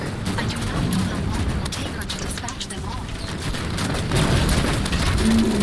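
A Hydra launcher firing at a Hunter in Halo 5, dense rapid bursts of explosive gunfire and booms in a noisy battle, with voices talking over it.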